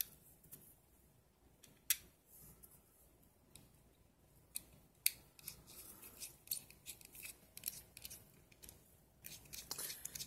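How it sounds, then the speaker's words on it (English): Bolts are screwed into an Axial SMT10 AR60 rear axle with small, faint clicks and scrapes that come in scattered bursts close by, separated by quiet gaps. "I'm just running them all at least halfway down at first, and then just coming back to tighten them all down"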